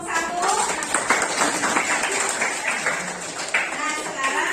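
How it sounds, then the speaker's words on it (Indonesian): Students clap for a presenting group in a classroom, a brief scattered round of applause heard beneath a teacher's voice talking over it. "Ya, tepuk tangan untuk kelompok 1."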